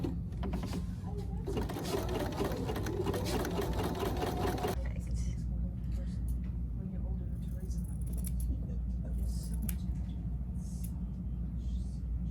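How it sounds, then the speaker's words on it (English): Sewing machine running a wide zigzag stitch on quilted fabric with batting and backing, a fast mechanical whirr for several seconds that then stops, leaving a low hum, with a person talking throughout. "So now I'm going to stitch"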